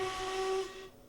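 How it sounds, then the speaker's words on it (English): A steam locomotive whistle in a video game gives one steady, fairly loud blast lasting under a second, then cuts off into quiet. "when I do that, I have a whistle"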